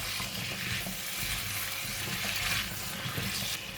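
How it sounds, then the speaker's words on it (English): Pumpkin and pork belly stir-fry in a hot pan or wok, with a steady, loud sizzle and a continuous rustle and scrape of stirring close by, with no talking. "And then we're just going to stir fry."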